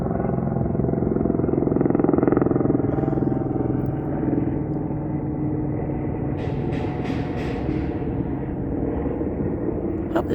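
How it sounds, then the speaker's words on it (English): A loud, steady engine drone with a low rumble, tour helicopters flying overhead in Las Vegas near Circus Circus, with a few faint high clicks later on. "all these helicopters are flying around. They're doing tours. It's kind of loud when they come by."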